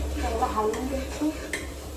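Ground masala paste being stirred in a cooking pot, with soft scraping and light clinks of a spoon against the metal over a low steady hum, close and moderately quiet throughout.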